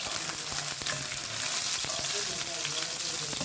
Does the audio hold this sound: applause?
no